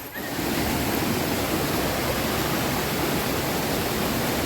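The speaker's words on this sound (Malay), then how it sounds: "Okay gang, ni sungai yang pertama kita akan lintas." A mountain river on a jungle trek toward Gunung Korbu rushes in a dense, steady broadband roar, loud and close, with no pauses or voices over it.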